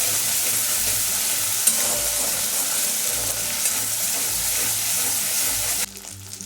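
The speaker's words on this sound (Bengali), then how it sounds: "দিচ্ছি দু চামচ পেঁয়াজ বাটা খুব ভালো করে কিন্তু মশলাটা কষাতে হবে" Onion paste and spice paste frying in hot oil for a jackfruit curry, giving a steady, loud sizzle with faint stirring scrapes; the sizzle drops off sharply near the end.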